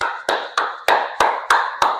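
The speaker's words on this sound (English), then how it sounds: "Thank you for the applause." Seven single hand claps ring out at an even, steady rhythm, each sharp and close, with a short decaying echo, in a quiet room with no other sound.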